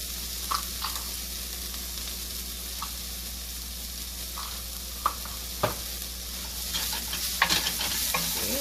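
Chopped onions and flattened rice sautéing in a pan give a steady low sizzle, broken by occasional spoon knocks and scraping stirs that grow busier toward the end; no one speaks.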